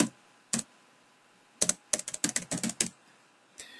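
Keys clatter on a computer keyboard in short bursts of quiet, close clicks with brief pauses between them, no talking over it.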